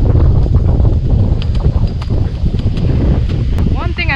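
Gusty wind buffets the microphone at a windy jungle campsite, a loud steady rumble with stronger surges throughout, and a faint bird call near the end.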